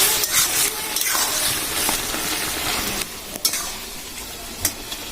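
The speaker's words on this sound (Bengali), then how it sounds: "দেখুন মা কি সুন্দর ভাবে খুন্তি দিয়ে নেড়ে নেড়ে একদম গলিয়ে দিচ্ছে" Spatula stirring vegetables in a pan over a smoky stove, with a steady broadband sizzle and scraping, occasional sharper scrapes and clicks standing out, close and moderately loud, no talking.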